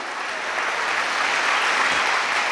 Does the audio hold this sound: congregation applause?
yes